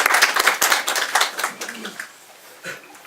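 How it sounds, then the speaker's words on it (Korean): Scattered hand clapping from a small group at a New Year press conference by a city education superintendent, fairly close and thinning out after a couple of seconds, with some murmured voices mixed in. "박수 크게 한번 주시죠"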